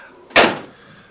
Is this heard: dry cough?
no